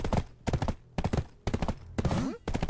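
Horse hooves clip-clop in the online game Black Desert during a three-player co-op session, sounding as rhythmic bursts of close, loud hoofbeats separated by short pauses, with a brief whinny-like call near the end.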